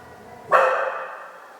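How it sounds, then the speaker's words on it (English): A shop dog lets out one short, sharp bark or snort at someone outside, fairly close and loud, then trails off into quiet room tone. "the shop dog's snorfing at somebody out there"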